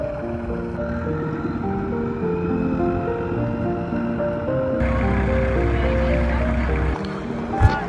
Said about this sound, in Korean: 작은 배로 갈아타고 다시 카타비치로 갑니다